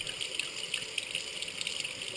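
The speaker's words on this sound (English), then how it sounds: "Put it under some water." Running tap water rinses a freshly cleaned trout, a close, steady gushing splash with small irregular spatters as the fish moves under the stream.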